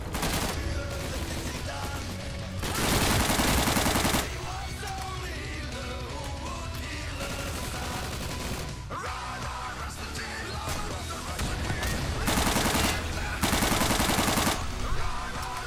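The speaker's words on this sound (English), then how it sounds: "MG on the right side" Machine gun fire in a video game, several long rattling bursts of rapid shots that start and stop, loud and close, with a voice shouting between them.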